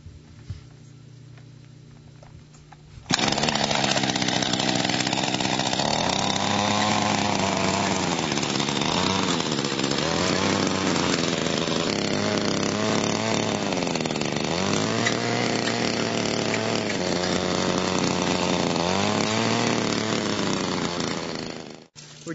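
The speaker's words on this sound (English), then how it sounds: "scale rototiller here that we can start up and run and scratch up the surface" A small rototiller engine starts abruptly after a quiet moment, then runs loud and steady with rhythmic rises and dips in pitch as it is throttled while working a lawn surface.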